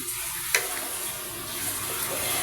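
A steady bubbling hiss of liquid boiling in a cooking pot fills the clip, with a faint clink near the start.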